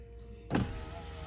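Electric power windows on a Dacia Duster with the ignition on, a short motor whir that starts abruptly and runs about a second, followed by a brief thump as the glass reaches its stop, close and alone in a quiet cabin.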